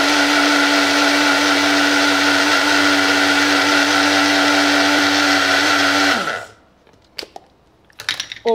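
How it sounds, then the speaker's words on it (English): Blender whirring steadily as it blends a coconut curry mixture, a loud, constant high-pitched motor drone that cuts off abruptly after about six seconds, followed by a few clicks and faint clatter. "I'm gonna add it in and we're gonna blend."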